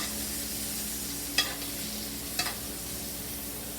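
Thyme stirred into butter in a hot pan, with a soft steady sizzle running throughout and two brief scraping stirs of a utensil standing out clearly.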